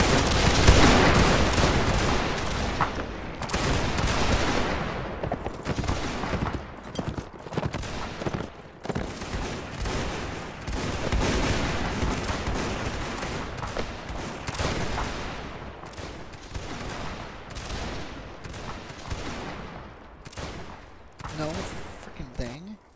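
Sustained ragged musket gunfire in the video game Mount and Blade Warband, countless loud cracks and pops firing at will in irregular overlapping bursts for many seconds, with distant battle noise and hoofbeats beneath.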